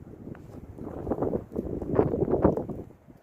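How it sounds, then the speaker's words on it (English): Wind gusts outdoors on a snowy day, driving falling snow sideways, come through as a rough, buffeting rumble that swells and surges unevenly, loudest around the middle of the stretch. "It's a little windy, so it's blowing to the side."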